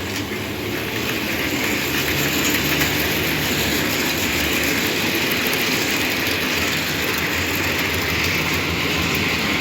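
A model Škoda ET electric locomotive runs along layout track with a steady close rolling rumble and faint rhythmic clicking, continuous for the whole stretch with no voices.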